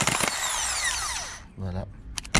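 A PSA engine starter motor, bridged with a screwdriver, spins up with a high whirring whine that winds down, followed by a brief click and a short buzz.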